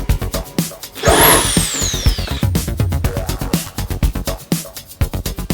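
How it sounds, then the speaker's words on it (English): A power drill driven by a child repairing a bed whirs in short, rapid bursts with clicking and knocking, one rising whine cutting through the repeated stop-start pulses. "he got to use the drill all on his own"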